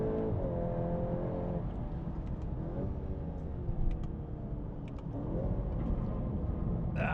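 VW Golf GTI Clubsport 8.5 lapping a race circuit, its engine loud and close as it revs up through the gears, with repeated rising pulls and brief dips at shifts, no talk.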